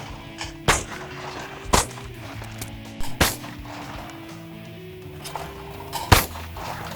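Several sharp shotgun blasts, about five, spaced irregularly over a steady outdoor background with faint low hum, on a Texas ranch.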